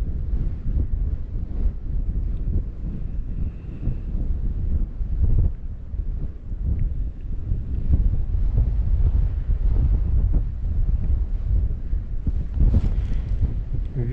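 Strong wind buffets the microphone on a frozen lake during ice fishing at Lake Chany, a loud continuous roar with gusts throughout and no speech.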